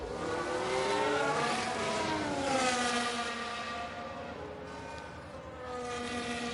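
A Formula 1 race car engine from the F1 Manager 22 game screams at steady high revs, harmonics sweeping up and down through gear changes as the car launches out of a corner, loud and continuous without talk.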